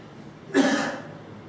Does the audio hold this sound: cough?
yes